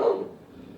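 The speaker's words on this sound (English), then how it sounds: "my dogs are barking" A dog barks once, close and fairly loud, and the bark fades quickly into a quiet room.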